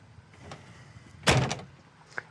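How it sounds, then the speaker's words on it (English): A single solid thunk as the door of a 1970 Ford Mustang Mach I shuts, preceded by faint handling noise and followed by a light click. "Doors shut great too. You don't have to slam them."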